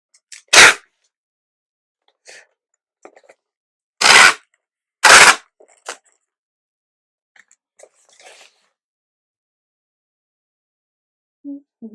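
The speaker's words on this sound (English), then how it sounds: "Tape gun noise again." A tape gun sealing a shipping box: three loud, harsh tearing screeches of tape being pulled across, separated by quiet gaps with small handling taps and rustles.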